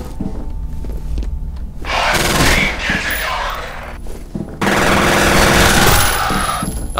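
Loud bursts of automatic gunfire erupt in the video game F.E.A.R., two long sustained volleys with a short lull between, following quieter footsteps and thuds at the start.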